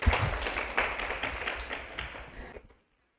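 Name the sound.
audience applause at a conference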